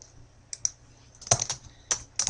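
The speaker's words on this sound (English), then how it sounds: "And then I'm going to type detail number one" A handful of crisp computer keyboard keystrokes while typing in Microsoft Word, close and distinct, coming in short irregular clusters with brief gaps between them.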